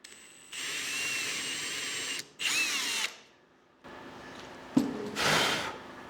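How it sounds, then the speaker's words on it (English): A power drill bores a hole in a Rogue Fab tube bender while a valve is mounted during an electric-over-hydraulic upgrade. Several loud, close whirring bursts start and stop, and no one talks. "we will drill a hole."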